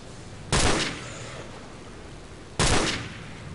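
Two loud, sharp gunshot bursts from STALKER game weapons, about two seconds apart, each with a short echoing decay over steady ambient background noise.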